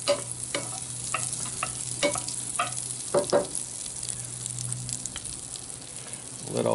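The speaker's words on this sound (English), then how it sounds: "Let all that butter melt." Two tablespoons of butter melting over bottom heat in a pan for a classic roux, a soft steady sizzle with scraping stirs and light clinks, close and moderately loud, no talking.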